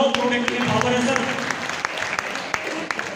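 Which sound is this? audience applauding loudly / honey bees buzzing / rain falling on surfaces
audience applauding loudly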